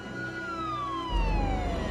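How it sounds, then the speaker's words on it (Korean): A siren wails in a film scene, its tone sliding steadily downward as if the vehicle is passing, fairly faint at first, with a low rumble rising beneath it partway through. "그때 들려오는 사이렌 소리."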